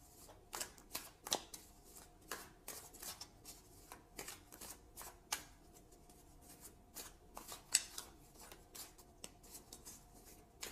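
Tarot cards being shuffled and drawn, quiet papery riffles and soft flicks in irregular bursts, close but faint, with no talking.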